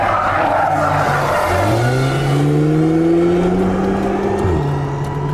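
An Audi R8 V10 Spyder accelerating hard on a race track, its loud engine climbing through the gears with steady rising pitch, a brief drop at a shift, and tire noise mixed in, close and with no talking.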